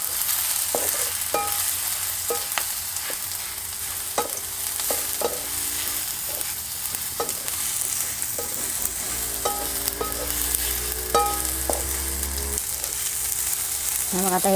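A spice masala sizzles with tomatoes in a pan in a village kitchen, a steady close frying hiss broken by repeated scraping and stirring knocks of a spoon against the pan.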